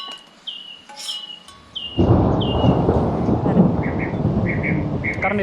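Birds chirp in short repeated calls, then a heavy roar of sudden rain and rumbling thunder breaks in and continues loud and steady while the birds still call faintly above it.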